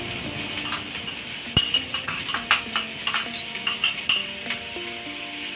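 Chopped onions frying in a little white oil in a pan, a continuous sizzle with frequent light metallic clinks of a spoon stirring against the pan.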